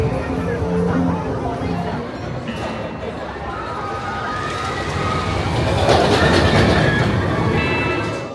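The Gold Rush roller coaster train at Drayton Manor runs along its track, a steady rumbling clatter with wheel noise that swells toward the end, under a background murmur of crowd voices.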